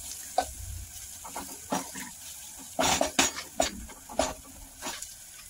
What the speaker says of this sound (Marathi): मसाले आपण मिक्स करून घेऊया चांगलं, थोडं असं सगळं मिक्स करून घेऊया